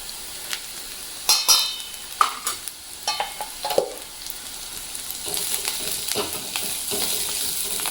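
Vegetables and crushed peanuts are stirred and sautéed in a hot pan, giving scraping spoon strokes over a steady oily sizzle that rises and falls through the whole stretch.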